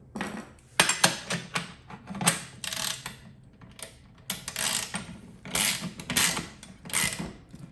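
Small metal parts and a bolt being tightened on a Scavenger MSE RC car chassis, close clicky ratcheting and clattering in quick irregular bursts, with no one talking.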